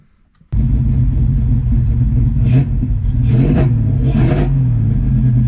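A 1988 Mustang GT engine cranks to life and idles with a rough, uneven rumble, then revs in several short bursts while misfiring, loud and close.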